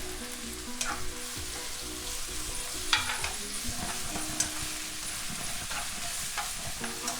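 Onions fry and get stirred in a pan, a constant close sizzle with scattered scraping clicks and knocks of the spoon.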